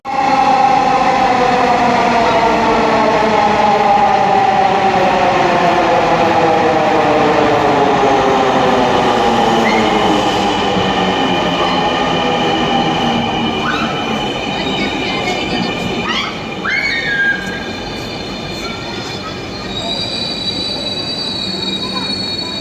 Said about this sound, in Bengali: ট্রেন অলরেডি দেখা যাচ্ছে তো আমি এখন ট্রেনে উঠব